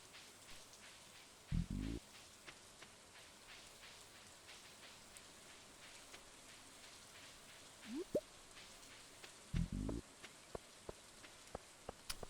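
Rain falls steadily in the video game Stardew Valley as a soft continuous hiss with scattered drips, and a few brief low thumps or tones cut in now and then, no talk.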